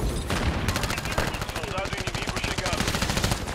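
Rapid automatic gunfire in Call of Duty, a dense fast burst of shots rattling nearly continuously, loud and close, with brief faint chatter in the gaps.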